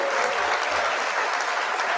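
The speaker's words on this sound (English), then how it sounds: "One more round of applause" Loud, dense audience applause from a live interview crowd, a continuous wash of clapping at close range with no voices standing out.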